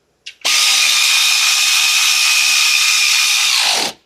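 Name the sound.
power tool tightening a wheel bolt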